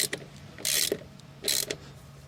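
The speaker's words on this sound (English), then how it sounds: "Now we'll fasten the battery. 16mm socket wrench." A 16mm socket wrench tightens the battery mount on a JCB 8010 mini excavator, producing two short close ratcheting bursts of rapid clicks with faint metallic handling between them.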